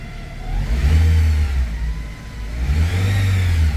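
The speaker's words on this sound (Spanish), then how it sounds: "Y si piso el pedal del acelerador," A Nissan car engine from the 2002-2006 range revs up twice as the accelerator pedal is pressed, each rise a loud, close swell of mid-range engine roar that eases back between presses.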